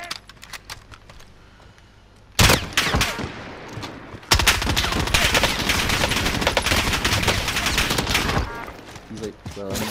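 Video game shootout gunfire: after a quiet lead-in, loud bursts of rapid automatic fire break out and keep going almost without pause for several seconds before stopping, with players' voices underneath.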